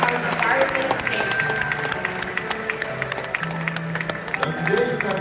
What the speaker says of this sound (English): let's take a moment and give a big round of applause to these amazing birds